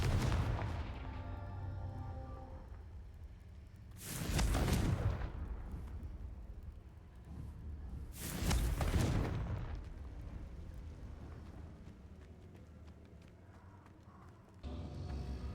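Two booming blasts from the Confringo fire spell in the video game Hogwarts Legacy, spaced a few seconds apart over a low game background, each with a short rumbling decay.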